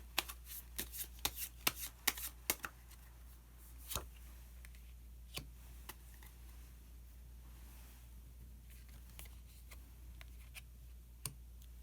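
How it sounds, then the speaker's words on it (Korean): Osho Zen tarot cards being shuffled and drawn: a quick run of crisp flicking snaps at the start, then sparser single card slaps and taps against a steady low hum, with no talking. "그러면은 마지막으로 오쇼젠 카드 한 장 더 뽑아보도록 하겠습니다."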